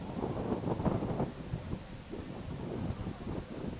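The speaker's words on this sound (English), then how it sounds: "another very windy day here in Wayland" Wind buffets the microphone at an outdoor high school varsity football game in Wayland, a steady low rumbling roar with gusty swells that lasts throughout, with no voices.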